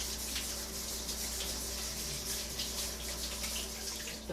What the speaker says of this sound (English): Keep my area clean. Wash my hands.